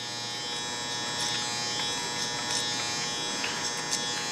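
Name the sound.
hair clippers used clipper over comb for a taper haircut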